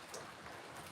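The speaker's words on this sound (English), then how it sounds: "I got rain on me." Steady rain falls outdoors as a continuous broadband hiss, close and even throughout, with no voices.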